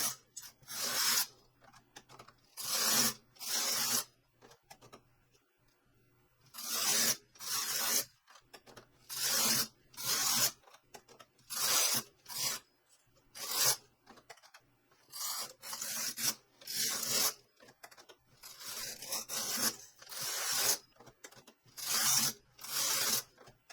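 Toyota KS787 knitting machine running, its carriage rasping back and forth in repeated bursts of roughly one to two seconds, close and fairly loud, separated by short pauses.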